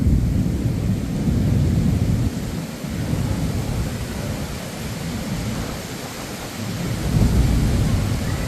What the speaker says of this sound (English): Listen to the thunder!